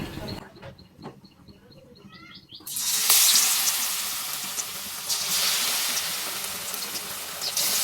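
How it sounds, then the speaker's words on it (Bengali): After a quiet start with faint bird chirps, besan-battered pointed gourd pakoras drop into hot oil and set off a sudden loud, hissing sizzle. The frying stays close and steady to the end. "এবার আমি এক এক করে বেসনে চুবিয়ে তেলে ভেজে নেব।"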